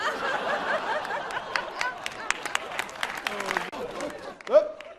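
Audience applause with scattered chuckles and crowd murmur ripples under a speaking voice, tapering off with a few sharp, close claps and noises near the end.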